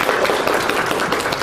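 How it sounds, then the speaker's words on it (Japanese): Dense applause from an audience at a WordPress tech talk, a steady wash of many hands clapping for a moment. "拍手。"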